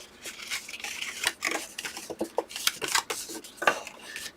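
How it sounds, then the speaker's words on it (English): Scraping and rubbing of a tool along score lines on paper, a string of irregular dry strokes and light clicks at close range, with no talking. "we're just crisping up these lines, burnish, whatever"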